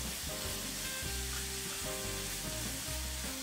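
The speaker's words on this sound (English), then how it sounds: "the bacon and the onions saute till the onions are translucent" Bacon and onions saute in a pan with a dense, steady sizzle, while a loud low rumbling hum runs through the whole stretch.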